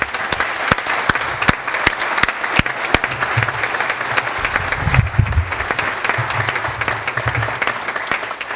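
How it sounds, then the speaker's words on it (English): Steady applause from a university audience honoring professors and faculty, sustained throughout with a few sharp close claps standing out and a low murmur of voices beneath. "I'd like to give a round of applause to our professors and faculty"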